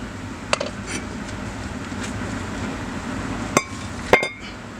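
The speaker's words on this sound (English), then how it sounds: "this rotor will now be able to just slide off with a little help with a mallet" A mallet taps a brake rotor off a 2005 Volvo S60 2.5L Turbo AWD, leaving a few sharp metallic clinks spaced apart over a low steady background hum, close by with no talking.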